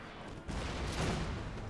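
Massed musket gunfire and artillery from a Napoleon Total War battle, a dense continuous roar of overlapping shots at steady loudness with no clear individual cracks.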